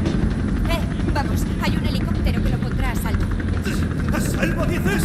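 Helicopter in Resident Evil 3 Remake, a steady loud rotor and engine drone running throughout, with game voices talking over it.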